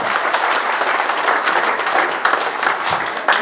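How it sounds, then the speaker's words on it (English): A packed room at a football fans' forum gives a loud, sustained round of applause for a player, dense crowd clapping close and continuous throughout, with no speech over it. "Put your hands together for number 25, Bailey Aldridge."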